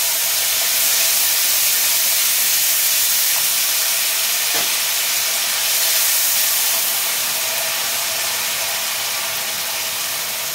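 Onion paste frying in hot oil in a pan with turmeric, a steady loud sizzle and hiss holding evenly throughout with no pauses.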